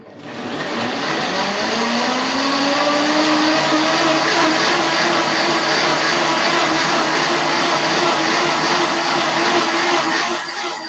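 An Optimum 9200A blender runs its 20-second self-clean cycle, a loud steady motor whine with a rising pitch at startup that holds even and continuous throughout, alone without talk.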